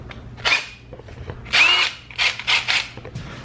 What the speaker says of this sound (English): Let's go drill a hole.